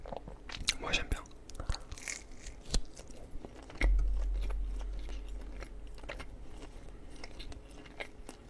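Close, crisp crunching and chewing of savoury snack food for ASMR, irregular bites and crackles with a heavier thud midway, alongside soft whispered speech.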